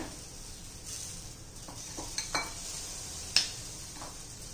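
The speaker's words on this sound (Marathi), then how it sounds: "आता एक चिला तव्यावर होतोय" Wheat flour chila cooks on a hot griddle with a soft, low sizzle running throughout, broken by a few light scrapes and clinks of a utensil against the pan.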